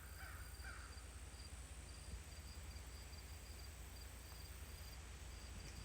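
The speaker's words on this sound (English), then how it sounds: "I could just get lost out here listening to the frogs and the crickets and the birds" An outdoor chorus of crickets and frogs trills steadily, with a few bird calls and caws breaking through the dense, continuous background noise.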